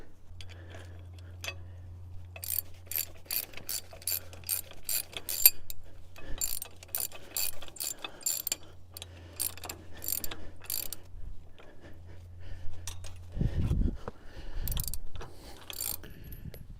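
Stabilizer kit parts are cranked on a Kubota L3901 tractor with steady rapid ratcheting clicks in long runs, close and moderately loud, with short pauses and a brief knock near the end.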